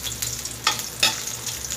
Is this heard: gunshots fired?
no